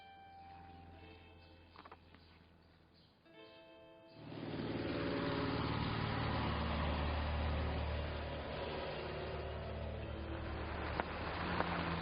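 A car engine runs with a steady low rumble, swelling in after quiet music and then holding at an even, close, loud level for the remaining eight seconds.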